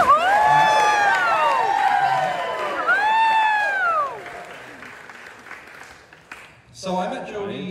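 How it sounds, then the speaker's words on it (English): Wedding guests clap and whoop for the bride during a best man's toast at a reception. Loud applause with rising cheers lasts about four seconds, then fades to scattered noise before a brief burst of clapping returns. "let's give a round of applause"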